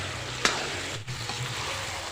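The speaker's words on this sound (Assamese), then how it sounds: "এইফালে মোৰ মছলা ভাজা হৈ গ'ল। ইয়াত তেল ওলাই গৈছে," Spices frying in oil in a pan on a gas stove give a soft, continuous sizzle close by, with one sharp clink of a stirring utensil early on.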